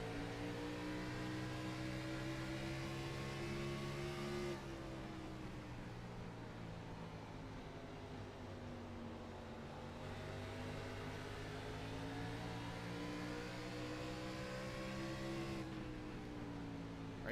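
Several stock car engines drone steadily through a Richmond race in a simulated Xfinity Series event, harmonic pitch dipping and rising as cars brake and accelerate through the corners, loud and continuous with no talk.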